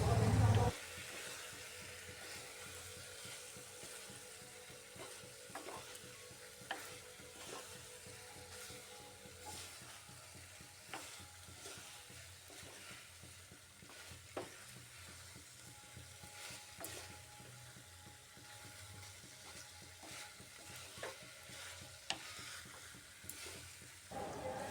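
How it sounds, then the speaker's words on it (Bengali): Spice paste mixed with ground white sesame paste is stir-fried in a pan, producing a faint, steady sizzle broken by occasional scraping clicks of the spoon, close and low in level, with no talking. "সাদা তিল বাটাটা দিয়েও মশলাটা আর একটু সময় কষিয়ে নিচ্ছি।"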